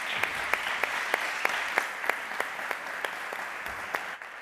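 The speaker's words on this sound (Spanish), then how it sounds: "vamos a recibirlo con un aplauso" A small audience at a literary event in Seville gives a brief, moderate round of applause to welcome a speaker, with a few sharper individual claps standing out before it stops.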